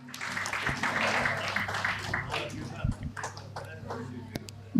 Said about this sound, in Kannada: ಎಲ್ಲ ಸ್ಪರ್ಧಿಗಳಿಗೆ ಮತ್ತೊಮ್ಮೆ ಜೋರಾದ ಚಪ್ಪಾಳೆ ಬರಬೇಕು